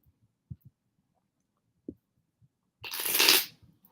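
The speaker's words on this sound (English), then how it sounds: "I'm going to go ahead and shuffle the deck 9 times." A tarot deck shuffled by hand: a few faint taps and clicks, then one close, brisk riffle lasting under a second, with no voices.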